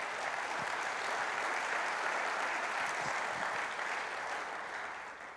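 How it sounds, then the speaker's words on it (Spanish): A church congregation gives a strong, continuous round of applause, a dense wash of clapping at steady loudness that tapers slightly near the end. "Dale un fuerte aplauso a Dios."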